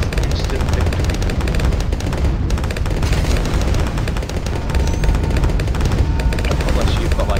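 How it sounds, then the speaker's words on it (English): Dense, continuous bursts of gunfire and explosions from the tower defense video game Balloons TD 2 rattle loudly throughout, a busy chaotic battle with no pauses. "I can't hear you because of all the explosions."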